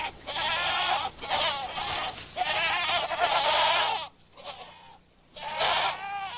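Goats roaming loose in a Madagascar forest bleat loudly and close by in long, wavering calls. Several overlapping cries come in bursts with short quiet gaps between them.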